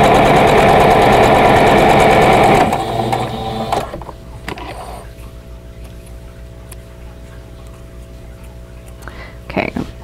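A sewing machine chain-piecing quilt block pieces runs in a loud, fast mechanical whir for under three seconds, then drops to a quiet hum with faint clicks and light handling noises.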